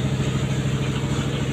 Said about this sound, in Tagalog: tingnan nyo yung tulog ng makina